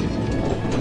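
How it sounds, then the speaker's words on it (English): A train rolls by on the rails, a dense rumble with faint rhythmic clatter, close and steady for a brief moment. "Train."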